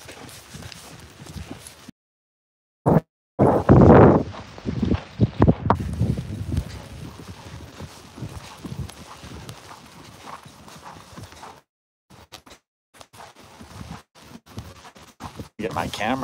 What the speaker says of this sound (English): Go for a little gallop in the rain.